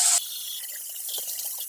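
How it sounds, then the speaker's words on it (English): Hot water runs from a tap into a sink to rinse away spilled borax, starting as a brief loud gush that drops to a thin, quieter trickle with scattered splashes. "Run hot water to clean out the pipes from any borax you may have spilled."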